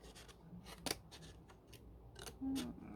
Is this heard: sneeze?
no